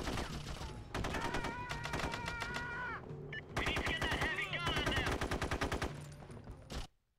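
Heavy machine gun or turret fire in the PS2 game SOCOM 3 U.S. Navy SEALs comes in long, rapid, steady bursts with a short break midway. Voices talk over much of it.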